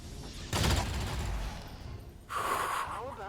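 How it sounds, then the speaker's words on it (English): Coil gun fire in the XCOM Long War video game: a loud burst of rapid shots followed by a later electronic discharge with a whining tone, separated by a quieter pause. "Coil guns just like make my spine twinge a little bit."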